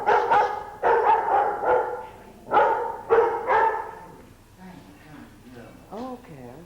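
Several dogs bark in loud, bunched bursts indoors in a house, the barks repeating through the first half and fading into softer yips and whimpers, with people talking over them.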